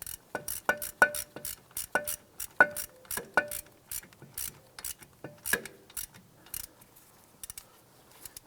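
A hand ratchet clicks in quick, uneven runs while snugging down the bolt on a rear ABS sensor of a 2011-2019 Ford Explorer, with close metallic ticks and a few short pauses, then fading to faint taps.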